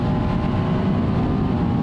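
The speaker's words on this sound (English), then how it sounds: "This engine pulls so nicely." A 2023 BMW R1250R SE motorcycle engine accelerating, a loud, steady low rumbling drone close to the microphone with no pauses.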